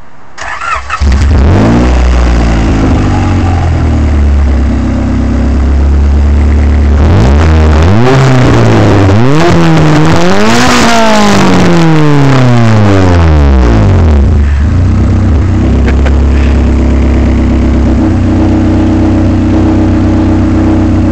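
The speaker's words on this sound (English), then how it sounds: "It's running open header right now, so it may be a little noisy." A Honda CRX running on an open header with no exhaust starts up, then revs loud and steady in several rising and falling sweeps before settling back to a rough, loud idle, close to the microphone.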